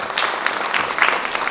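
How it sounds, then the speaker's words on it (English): An audience at a Rangapravesham dance debut applauds, a dense, steady crackle of many hands clapping together, loud and close throughout the short burst. "A big round of applause to the Backstage Samiti"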